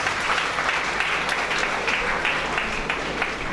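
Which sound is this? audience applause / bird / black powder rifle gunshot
audience applause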